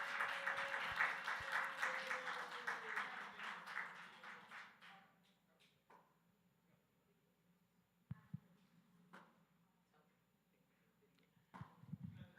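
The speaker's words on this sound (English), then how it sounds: "Clap it up for Patrice, y'all" An audience applauds for Patrice at a NAN Huddle Monday gathering: a loud burst of many hands clapping that fades out after a few seconds, leaving a quiet room with faint scattered thumps and rustles.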